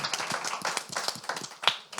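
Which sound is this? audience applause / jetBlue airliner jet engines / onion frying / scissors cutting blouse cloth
audience applause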